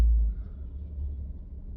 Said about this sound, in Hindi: तो एक बार आवाज सुनते हैं गाड़ी की